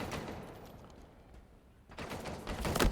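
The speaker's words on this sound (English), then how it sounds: "Oh, great nade by bubu dubu." A grenade blast and rapid gunfire in a competitive video game match, with close broadband cracks fading and then returning in a louder burst toward the end.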